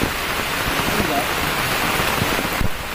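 Steady rain falls during night fishing, a dense close patter of drops on surfaces that continues throughout the clip.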